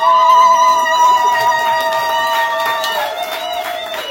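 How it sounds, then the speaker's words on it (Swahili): Several women ululate together in celebration, producing loud, high, sustained trilling cries that overlap and stretch on without pause. "pigeni vigelegele vingi kabisa"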